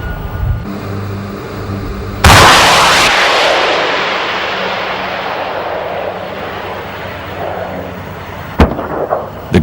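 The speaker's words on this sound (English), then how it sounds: "At the approach of the towed sleeve, the gunner acquires the target and prepares to fire." A Swedish anti-aircraft gun fires at a towed target sleeve during a 1992 weapons demonstration: one loud blast rolls out into a long fading echo, followed near the end by another sharp, distant-sounding report.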